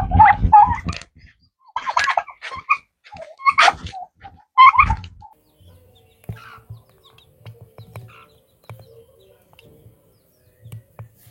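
Farm birds call in a lowland farm in Benin. About four loud, gobbling and cackling bursts come close together at first, then fainter clucks and low rustling sounds follow.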